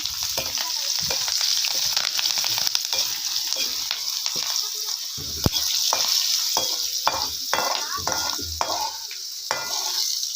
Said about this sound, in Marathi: नंतर हा कडीपत्ता टाकते कडीपत्ता ते आपल्याला चांगला असा भाजायचा आहे